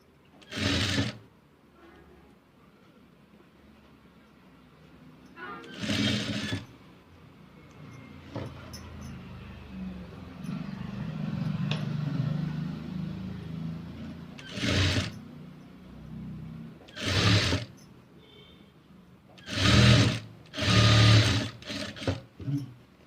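Sewing machine stitching a princess-cut blouse seam with lining, running in several short separate bursts with quiet pauses between, close and fairly loud, with a longer low hum of handling in the middle.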